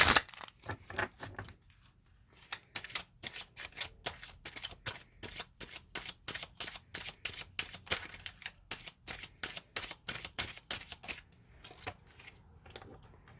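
Tarot cards are shuffled and drawn in a quick run of crisp riffling bursts and flicks, close and fairly steady, with no voices.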